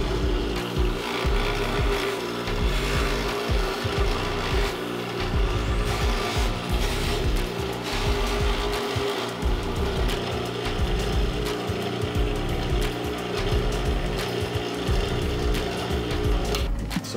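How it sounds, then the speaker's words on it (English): A motor-driven buffing wheel runs against handmade wooden knife scales in a workshop, giving a steady, loud whirring hum with rough rubbing and grinding texture throughout, no talking. "We're gonna hit it on the buffing wheel."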